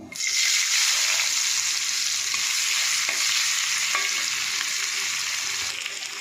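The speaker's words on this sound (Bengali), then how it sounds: "এবার আমি পেঁয়াজটা দিয়ে দেবো" Onion frying in hot oil in a pan, a loud, close, steady sizzle that stays continuous for the whole stretch with faint stirring clicks.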